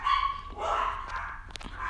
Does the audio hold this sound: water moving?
no